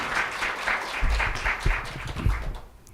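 An audience claps in welcome for a professor at a lunchtime medical talk, steady dense applause with a few louder low thumps, fading slightly toward the end.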